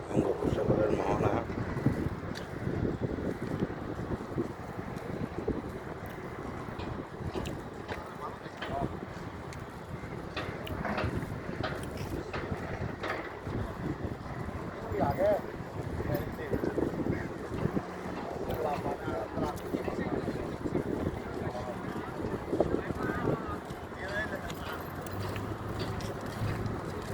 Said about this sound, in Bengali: বঙ্গোপসাগরের মোহনা